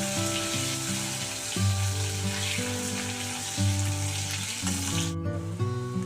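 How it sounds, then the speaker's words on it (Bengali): Potato pieces coated in salt and turmeric sizzle in hot oil, a steady frying hiss running the whole time beneath prominent background music. "প্রথমে আলুগুলো একটু ভালো করে ভেজে নিচ্ছি"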